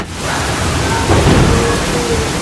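Steady monsoon rain pours down in a thunderstorm, a dense hiss with a deep thunder rumble swelling near the middle and lingering, loud and continuous with no voices.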